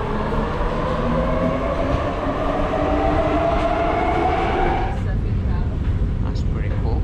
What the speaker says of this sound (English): the old underground metro line